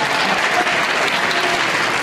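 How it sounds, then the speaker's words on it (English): A burst of steady crowd applause at a live science demonstration, dense and continuous throughout the brief moment, with no voices above it. "Have a round of applause for you."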